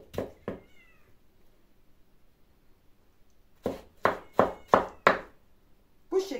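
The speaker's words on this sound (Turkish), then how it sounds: "Kedi de vardı." A house cat meows in a kitchen during cooking: two short meows at the start, then after a quiet gap a run of five or six loud, close meows in steady succession, with another beginning at the very end.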